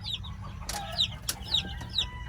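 Young chicks hatched in an incubator peep and chirp in a brooder, high thin calls repeating every half second or so over a low, steady background hum.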